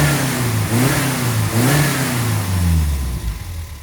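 A Toyota Corolla KE55 engine runs steadily close by, its pitch rising and dipping through several revs before easing back toward idle, loud and alone with no voices.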